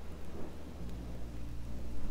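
Steady rain hisses in a Minecraft: Story Mode thunderstorm, with a low rumble of thunder rolling underneath, continuous and moderately quiet throughout.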